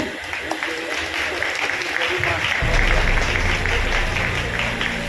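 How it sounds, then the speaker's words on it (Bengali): Sustained, dense applause from an audience at the Kolkata Press Club's 81st anniversary celebration fills the room, growing fuller and louder partway through before continuing steadily to the end. "এত জোরে হাততালি"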